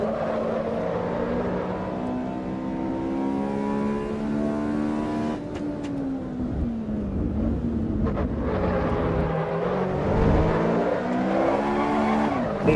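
A stock Honda S2000 engine in the Assetto Corsa EVO racing simulation, revving loud and close as the pitch climbs and falls through gear changes, with a sharp surge of throttle near the end and no talk.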